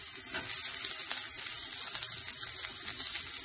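Sliced onion julienne frying in a pan with chana and urad dal for semiya upma, a continuous hissing sizzle with faint crackles, steady and close throughout.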